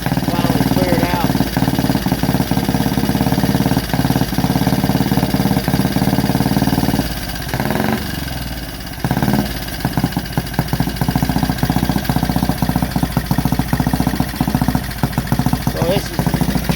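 Vintage Benelli/Motobi motorcycle engine in a museum running just after starting, a loud, close, rapid single-cylinder-style putter that dips briefly as the throttle drops, then picks back up, with someone talking over it.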